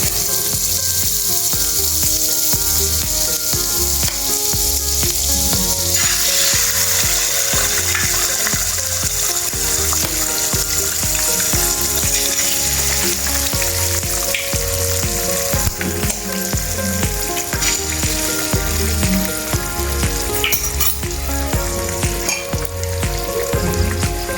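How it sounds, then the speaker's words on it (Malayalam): An egg fries in half a teaspoon of butter, a loud continuous sizzle with occasional stirring scrapes, steady throughout with no voices. "നമുക്കൊരു മുട്ടയും കൂടെ പൊരിച്ചെടുക്കാം. ഒരു 1/2 ടീസ്പൂൺ ബട്ടർ,"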